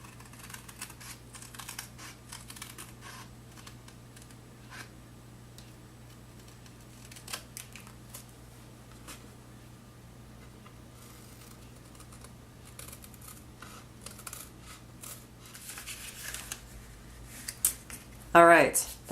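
Scissors snip through a paper card flap during a papercraft project, quiet intermittent cutting clicks scattered over a steady low hum, with a louder burst of handling near the end.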